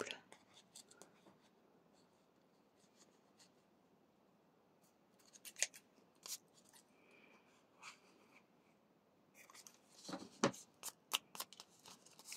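Scissors cutting paper for a handmade scrapbook album corner or card, soft quiet snips and rustles in a still room, with a few sharper cuts clustered near the end.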